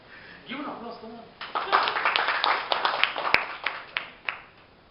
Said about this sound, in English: Give an applause, come on.